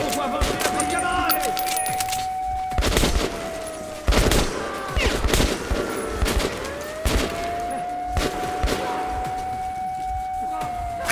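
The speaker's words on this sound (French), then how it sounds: "Oh non, des tirs!" Gunfire in the video game Metro Last Light Redux, with several loud bursts of shots spread through the stretch over a steady tone and background game noise, with some voice activity in between.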